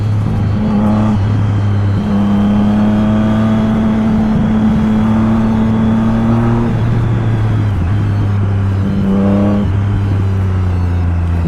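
A Triumph Street Triple motorcycle engine drones steadily and loud, rising and dropping in pitch as it revs under way, with wind rush over the whole ride and no talking.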